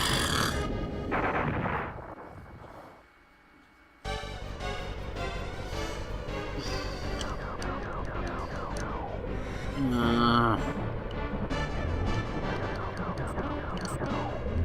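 Explosions from bombs in the SNES game Star Fox burst repeatedly amid busy game effects and looping chiptune music, with a short quieter dip before the action resumes.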